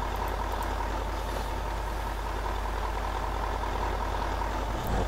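A Ural 6370 truck in the game Spin Tires drives with a steady, dense diesel drone that holds constant and loud throughout, with a brief knock near the end.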